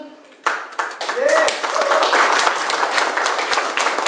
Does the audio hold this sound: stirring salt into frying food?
no